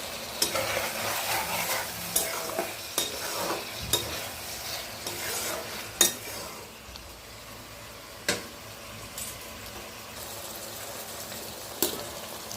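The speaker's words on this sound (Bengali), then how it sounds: "এখন এর মধ্যে আমি মাছগুলি দিয়ে দিলাম।" Small mola fish stir-fried in a pan, a constant soft sizzle broken by sharp clinks and scrapes of a spatula against the pan at irregular intervals, no voices.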